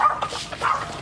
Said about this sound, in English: he's over there barking at the goats